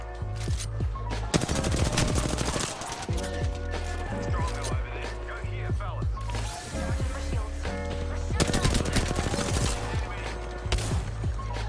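Rapid gunfire in Apex Legends, including charge rifle shots, rattles through dense bursts of repeated shots and game effects, with players talking over the action.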